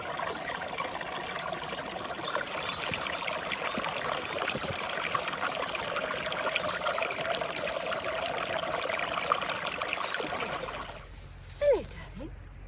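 Wild spring water flows steadily in a stream early in the morning, a continuous broadband rush that holds even for most of the recording, then drops away near the end, leaving quieter sounds.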